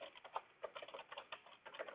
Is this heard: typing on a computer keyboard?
yes